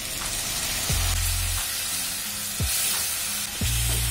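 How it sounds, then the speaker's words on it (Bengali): Potatoes and onions fry with a spice gravy in a pan, sizzling loudly and steadily, with several low knocks of a spoon stirring at irregular intervals. "আলুর সাথে সব মশলাগুলো আমি ভালো করে কষিয়ে নেব।"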